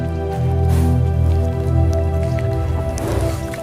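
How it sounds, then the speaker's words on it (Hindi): Horse hooves squelch through thick mud on the Karakoram mountain road, a few wet sucking steps standing out over a low steady rumble, with no talking. "घोड़ों के पैर यहाँ फिसल सकते हैं। हम कीचड़ में हैं।"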